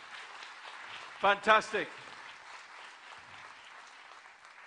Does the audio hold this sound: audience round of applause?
yes